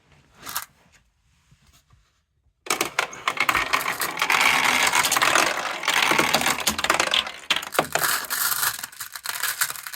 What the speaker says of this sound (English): I've got the hopper open on the machine at the moment, so balls will just run through just to show you.